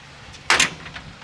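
A broken door banging during Hurricane Ian, heard as a single loud bang over steady storm noise, near and abrupt, with fainter knocks after it.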